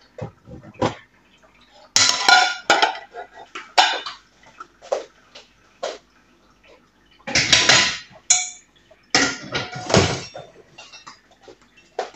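Frying pans are handled and put away in a kitchen, with sharp metallic clanks and knocks in irregular bursts and quiet gaps between them.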